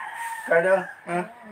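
Chicken being chased by a Labrador mix dog, two short agitated squawking clucks close by, with a voice speaking briefly.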